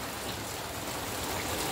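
Rain falls steadily onto a newly laid floor at a country property, a constant even hiss of drops on the hard surface, close and unbroken, with no voices.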